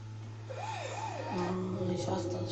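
In a Spider-Man video game, an ambulance siren wails in rising and falling sweeps over a steady low engine hum, with game sounds layered on top.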